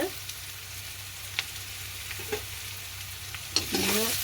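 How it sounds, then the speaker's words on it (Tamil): Onions fry in a pan while being stirred, a faint steady sizzle with occasional scraping clicks of the spoon and a louder stirring burst near the end. "வெங்காயத்திற்கு கிளறி விடுவோம் ஒரு பொன்னிறமாக வந்து"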